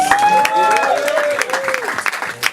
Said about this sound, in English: let's give him a round of applause for that performance